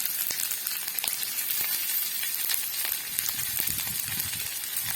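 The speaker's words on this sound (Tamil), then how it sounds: "நல்லா வதக்கிக்கோங்க" Steady frying sizzle of onions sautéing in coconut oil, with crackling pops and occasional stirring scrapes, close up and continuous, no voices.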